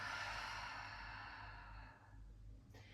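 A long, soft breath out during pelvic floor exercise, heard close and quiet, tapering off into near silence.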